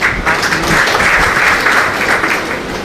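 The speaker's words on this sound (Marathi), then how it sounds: "टाळ्या" Crowd at a political party rally breaks into loud, dense applause, many hands clapping together in a sustained burst that tapers slightly toward the end.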